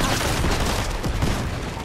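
Automatic gunfire from a frenzy auto gun in Fortnite: a dense, rapid fusillade of loud, close shots running continuously with no breaks.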